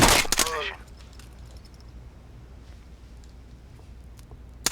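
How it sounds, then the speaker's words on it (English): A burst of gunfire in the original Tom Clancy's Rainbow Six video game, a sharp loud crack at the very start that fades quickly into quiet game ambience. "We had one gunshot, that may give us some problems."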